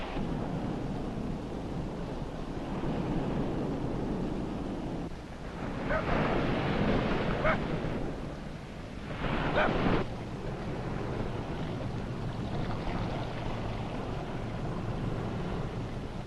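Ocean surf on the Atlantic coast of Canada, a steady broad roar with two stronger swells building and breaking, no voices.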